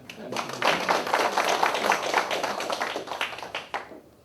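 An audience at a Korean academic conference and citizens' forum claps in a short, dense round of applause lasting about three and a half seconds before fading out.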